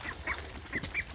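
Pekin ducks quacking nearby: four or five short, nasal quacks in quick irregular succession over a faint outdoor background, fairly quiet overall.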